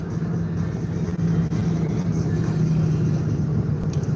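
A car towing a trailer spins its tires in place to warm them, giving a steady, loud, low engine rumble with tire roar that holds throughout.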